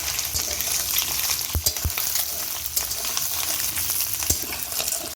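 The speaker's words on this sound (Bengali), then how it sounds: "দেখো, আমার ডিমটা ভাজা হয়ে যাচ্ছে।" An egg fries in a pan of hot oil, giving a steady, close sizzle with a few sharp pops and spatters, and nobody talks over it.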